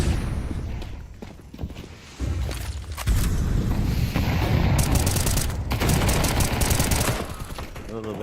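Rapid MP9 submachine gun fire in a Counter-Strike esports match, sustained bursts with booming impacts and mechanical clatter running for several seconds while a caster talks over it.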